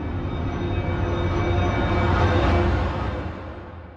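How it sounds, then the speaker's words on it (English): Elemental Rise, a cinematic transitional riser effect: a dense, rushing swell of noise that builds steadily, peaks near the middle, then thins out and fades toward the end, heard alone. "I also have Elemental Rise, which is a transitional element."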